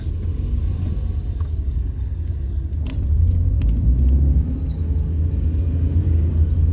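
A car drives on a road, heard from inside the cabin as a steady low engine and tyre rumble that grows slightly louder partway through, with no talking.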